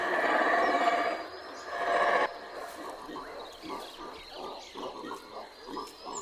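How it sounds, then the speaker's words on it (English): A troop of howler monkeys in the Central American wild makes deep, rasping roars. A loud sustained bout fades into rhythmic, pulsing grunts and huffs, some sounding fairly near and others more distant. "It's not just males that howl, the whole family joins in. Even babies attempt to roar."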